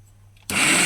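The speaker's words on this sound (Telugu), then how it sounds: "యాడ్ చేసుకొని మిక్సీ మళ్ళీ పేస్ట్ చేసుకోవాలి మనం" A kitchen mixer grinder starts up to grind jaggery into a paste: half a second of near quiet, then an abrupt loud whirring roar that holds steady to the end.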